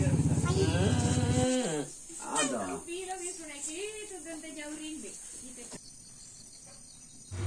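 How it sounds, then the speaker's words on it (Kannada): Cows on a village farm, tended by a grandfather and grandson, give a long, low, droning moo at the start, then a wavering tonal call follows over soft insect-like background hiss. "ಅಜ್ಜ ಮೊಮ್ಮಗನ ಹಸುಗಳೊಂದಿಗಿನ ಒಡನಾಟ."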